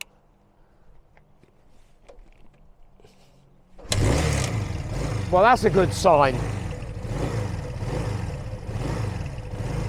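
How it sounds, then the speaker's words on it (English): A Honda Benly motorcycle is kickstarted and catches after quiet fiddling, then idles with a fast clattering beat and revs in two sharp blips before settling back to a steady idle, with someone speaking briefly over it. "The revs are dying straight away"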